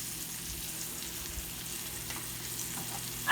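A grass-fed steak sears in hot fat in a pan at home, giving a steady, moderate sizzle with a low hum underneath. It stays fairly quiet and constant, and no one talks.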